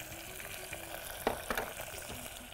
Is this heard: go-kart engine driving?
no